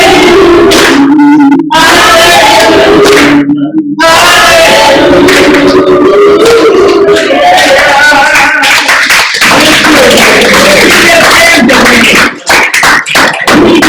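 A crowd at a Black History celebration in Marin City claps and cheers loudly, with rhythmic hand claps mixed with voices, shouts and singing-like tones throughout, and brief pauses between bursts.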